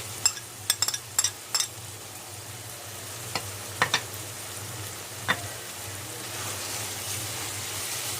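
Crushed garlic and onions sizzle in a pan for chilli con carne, a steady close hiss broken by several sharp clicks of a utensil against the pan, no talking.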